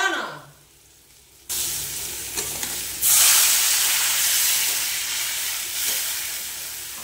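Water hits a hot pan of fried curry with a sudden loud burst of sizzling steam that keeps hissing steadily, flaring again partway through, after a quiet moment.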